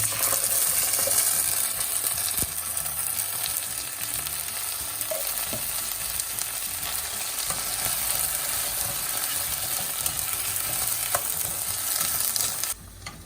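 Ginger garlic paste hits hot oil in a wok with sautéed cashews for restaurant-style Punjabi dum aloo, a steady crackling sizzle throughout with occasional metallic clinks of stirring, close and without voices.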